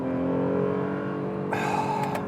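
A 2019 Acura NSX accelerates hard, its engine holding a steady, strong note before an abrupt quick manual gear shift brings a sharper, brighter tone for the final second.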